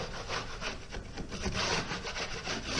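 Dried 20-minute drywall joint compound is scraped and trimmed on a ceiling to knock off high spots, giving a continuous rough, rasping scrape with rhythmic strokes, close and fairly loud.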